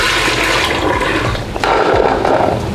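Vegetables being rinsed in running water while cooking, a loud continuous rush and splash of water close by, with no talking.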